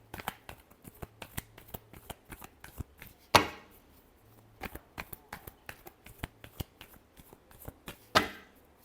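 Tarot cards shuffled by hand in close, crisp riffles: a quick run of light flicks, a louder slap of the deck at about the midpoint, then more rapid flicks ending in another slap.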